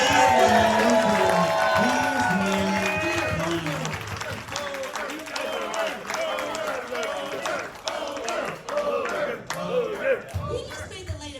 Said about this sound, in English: All right, you can applaud him.